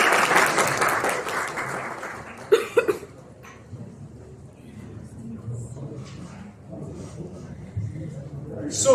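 A classroom audience at an anatomy lecture claps for a student in a short burst that fades after about two seconds, followed by a couple of coughs, scattered murmuring and faint voices in a quiet room.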